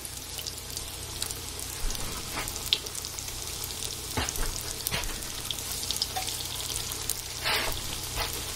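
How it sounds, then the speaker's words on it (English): Donuts fry in oil on low heat with a steady crackling sizzle, broken by occasional sharper pops and bubbling bursts, close up with no talking. "Now I'm going to put them in the oil."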